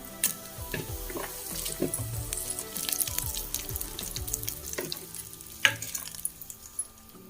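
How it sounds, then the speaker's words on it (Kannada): Mustard and cumin seeds crackle and sizzle in hot oil, a soft steady frying hiss with scattered pops and a few stirring knocks, fairly quiet and close, with a faint watery rush mixed in and no talking. "ಸಾಸಿವೆ ಜೀರಿಗೆ ಚಟಪಟ ಅಂತ ಅಂದಮೇಲೆ"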